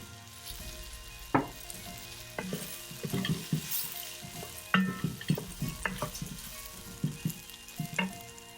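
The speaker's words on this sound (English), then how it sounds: "we stir until the apples have browned a little and start to be soft" Apples and pearl barley sizzling and frying in a pan while a spoon stirs them, with steady crackle and repeated scraping strokes close to the microphone.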